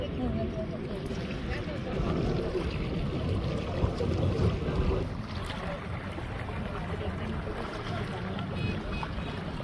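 A river boat ride near a village gives a constant rush of water and wind with rumbling movement, while people talk over it.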